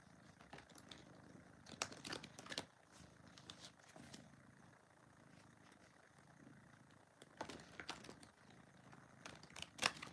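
Rider-Waite tarot cards being shuffled by hand, giving soft papery riffles and crinkling bursts in a few clusters at close range, fairly quiet, with no talking.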